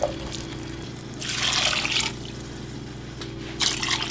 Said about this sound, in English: Now we can turn the heat up now that we added water.